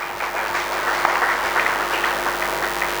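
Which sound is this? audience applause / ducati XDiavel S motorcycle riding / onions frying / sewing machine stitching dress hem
audience applause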